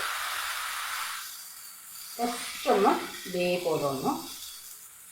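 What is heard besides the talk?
rice flour batter sizzling in hot pan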